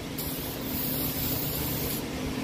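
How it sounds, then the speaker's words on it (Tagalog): Isidelco cleaner sprayed from a spray bottle, a close, continuous hiss of mist lasting about two seconds at a steady level. "Spray lang natin ng Isidelco yan."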